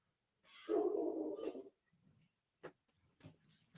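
A dog gives a short burst of barking, loud and close, followed by a few fainter, scattered yelps and rustles.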